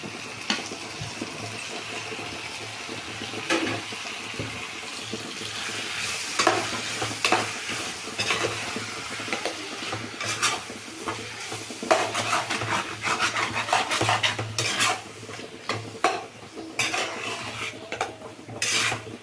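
Potatoes and onions fry in a pan for a gravy while tomato goes in, with a steady close sizzle broken by repeated scraping and clattering of a utensil against the pan. No one speaks.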